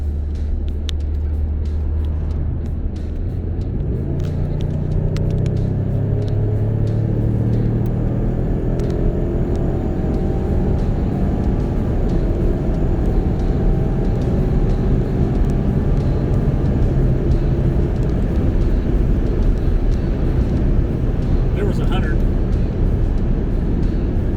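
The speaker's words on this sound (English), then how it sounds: "see if we can try to hear these turbos" A 2018 Lincoln Navigator's turbocharged engine rumbles loudly while driving, its tone climbing steadily as it accelerates, with road noise throughout and a person talking over it.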